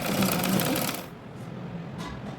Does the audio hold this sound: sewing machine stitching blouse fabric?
yes